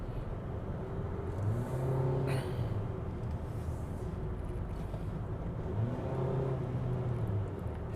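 Mitsubishi Xpander 2021 driving on a country road with its automatic gearbox hunting for gear: steady road and engine noise inside the cabin, with the engine note rising and falling as revs shift.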